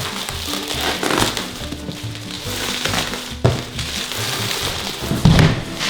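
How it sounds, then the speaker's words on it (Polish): A parcel package is torn open by hand, its plastic packaging crinkling and crackling in close, uneven bursts with a couple of sharper rustles. "także otwieramy paczuszkę"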